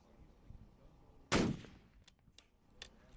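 A single sharp long-range rifle shot fired at a steel plate over a mile away, a loud crack with a decaying tail, followed by faint distant knocks and background murmur.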